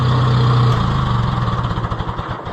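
An Oliver 66 tractor engine runs close by with a loud, throaty idle. Partway through, its steady drone breaks into a rhythmic, pulsing chug that fades slightly toward the end, and no voices are heard.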